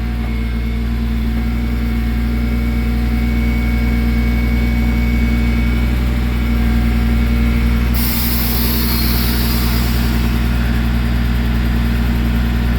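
Air brakes on a log truck's trailer release a broad, steady hiss over the constant low rumble of the idling truck engine, with the hiss growing brighter and louder partway through.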